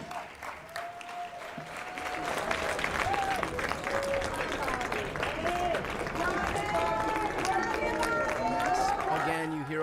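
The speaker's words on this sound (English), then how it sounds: "you hear all the applause of folks who have filled the audience" Applause from a packed audience at a congressional hearing with RFK Jr. as it adjourns, with sustained crowd clapping and voices over it.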